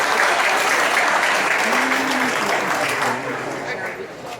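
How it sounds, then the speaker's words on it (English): Applause from an audience at a gathering, a dense, steady clapping that holds loud for several seconds and then eases slightly, with no talk over it. "Please give Dawn a big round of applause, please"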